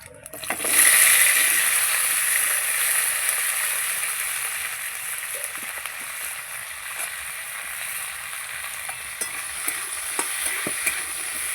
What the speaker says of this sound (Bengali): সিমটা ভেজে নেব।